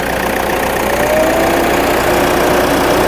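A 2015 Ford EcoSport diesel idles with the air conditioning running, giving a loud, steady, even hum and fan rush with no break.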